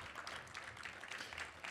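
At a civic Black History Month celebration, an audience gives a faint, steady round of applause, an even, distant hiss of many hands clapping with no talk over it.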